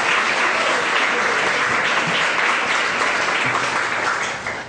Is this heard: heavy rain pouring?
no